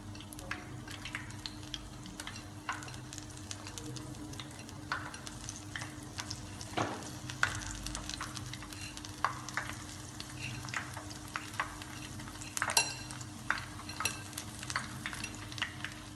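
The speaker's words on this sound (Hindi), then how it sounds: "ये हम दूसरे पकौड़े बना रहे हैं, साबुत पालक के जो पत्ते थे उनके बना रहे हैं।" Whole spinach leaf pakoras fry in hot oil with a steady close sizzle and bubbling, broken by occasional soft clinks and stirring, with no talking.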